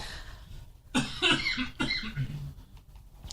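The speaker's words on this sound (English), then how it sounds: "I'm going to cough for a second." A short burst of a few coughs, close and loud, followed by throat noise that fades out.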